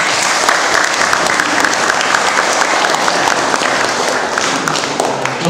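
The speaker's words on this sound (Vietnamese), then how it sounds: "chúng ta cũng nên có một tràng pháo tay để chào đón" A hall audience at the Huế Buddhist institute gives steady, full applause welcoming a researcher, dense even clapping from many hands that carries on without a break.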